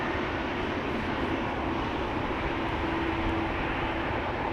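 A Swiss airliner departs Amsterdam Schiphol Airport, its engines giving a steady, broad roar at moderate level that stays even throughout, with no talking over it.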